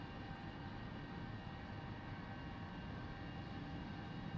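A DC-8 airliner's engines drone in flight in X-Plane 11, a steady, even roar with a faint whine and no voices.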